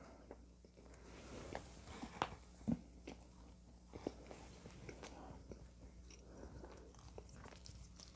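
Close, quiet chewing of a glutinous rice donut filled with brown red bean paste, with soft sticky bites and a few sharper crunchy moments over low background noise, no talk.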